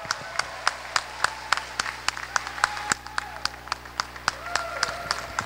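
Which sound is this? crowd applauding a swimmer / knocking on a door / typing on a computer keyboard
crowd applauding a swimmer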